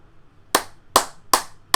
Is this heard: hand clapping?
yes